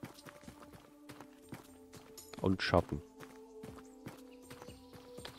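Two horses clip-clopping in the Tavern Manager Simulator video game, a steady run of hoof clops under a low hum, with a brief bit of German speech partway through.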